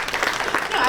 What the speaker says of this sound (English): we can clap it up